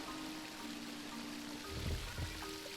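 Evil water flows in a puzzle video game, a faint, steady trickling wash like a small stream, with a couple of soft splashy surges toward the end and no talking.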